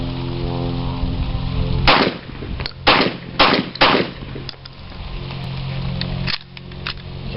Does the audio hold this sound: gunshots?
yes